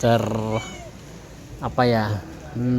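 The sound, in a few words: cat meowing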